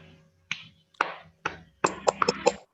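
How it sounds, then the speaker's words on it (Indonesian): A few students in a class clap for a classmate, sparse isolated claps about half a second apart, then a quick cluster of several claps, close and dry with brief silence between. "Tepuk tangan untuk teman kita Ridwan."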